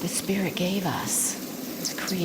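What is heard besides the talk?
No everyday noises stand out.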